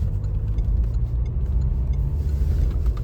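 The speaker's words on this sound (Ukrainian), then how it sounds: "Я зараз розганяюсь." A car steadily accelerating, its mid-range engine hum and low rumble holding at a constant, moderate level with no speech throughout.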